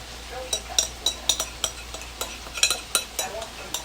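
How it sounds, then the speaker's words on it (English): Cooked noodles being reheated and stirred through a teriyaki-style sauce in a pan: a string of sharp utensil scrapes and clinks against the pan over a faint sizzle, close and fairly loud, with no talking. "all I'm doing is just reheating the noodles in the sauce until it just mixes together"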